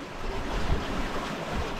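A sailboat in a flotilla crossing open sea from Ajaccio toward the Lérins islands at about five knots, with a steady rush of waves and wind noise against the hull, continuous and fairly loud, no voices.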